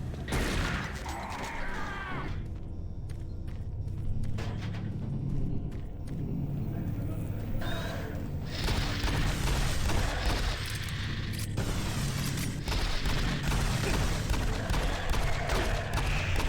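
A steady barrage of gunshots from the Doom 3 VR shooter, blended into a thick wall of rumbling, mechanical noise and booms that runs the whole time, moderately loud and busy.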